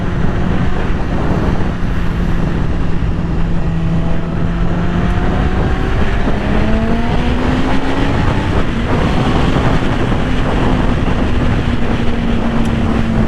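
A 2020 Yamaha R6 sport motorcycle engine drones loudly and continuously while riding, its pitch slowly rising and easing amid rushing wind noise.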